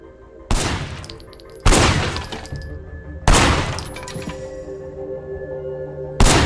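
Four loud, sharp gunshots from a gun in the video game Sleeping Dogs, spaced over several seconds, each with a ringing tail and no talk.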